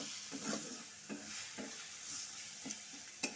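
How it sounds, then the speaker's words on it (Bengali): Spices with coriander and cumin powder being stirred and fried in a pan for a Bengali potato and cauliflower dish, a soft steady sizzle broken by several light scraping stir strokes, close and fairly quiet with no talk. "এখন মশলাগুলোকে একসাথে ভালো করে কষে নিতে হবে।"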